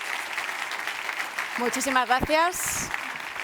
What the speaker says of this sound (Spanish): Les damos un aplauso, por favor, mientras que nos acompañan.